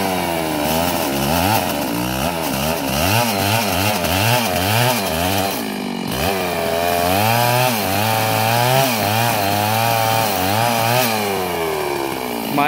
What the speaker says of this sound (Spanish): Maestro en el motosierra